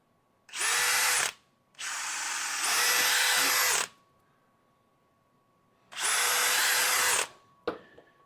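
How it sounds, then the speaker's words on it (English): A high-pitched power drill whines in three bursts while drilling into a zero-turn mower tire, the middle one long and rising, with quiet pauses between and a short clunk at the end. "And I'm just going to drill two up here"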